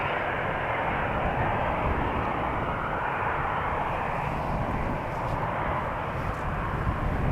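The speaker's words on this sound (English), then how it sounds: "a 737-800 from KLM that is going to go to Bergen" A KLM Boeing 737-800 departs from Amsterdam Schiphol, a dense, steady engine roar with a heavy low rumble, loud and sustained for the full stretch without voices.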